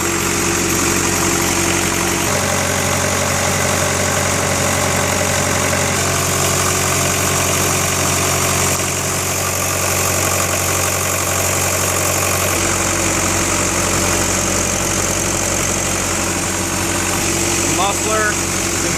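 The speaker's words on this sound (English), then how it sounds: "The engine." Cat 257B multi-terrain skid steer loader with its diesel engine idling, a steady close, loud rumbling drone with a constant hum that barely changes, brief background shifts but no revving.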